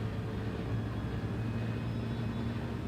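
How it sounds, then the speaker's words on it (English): A Ford Mustang in a racing video game roars with a steady, continuous low engine drone, moderately loud with no breaks or talk. "I reckon the Mustang is one of the greatest sounding cars in this game."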